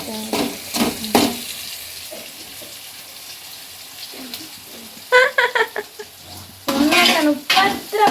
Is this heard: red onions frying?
yes